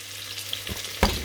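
Onions soften in a pan for a Gascon white bean and country ham dish, giving a soft steady sizzle with a few brief scraping stirs near the end.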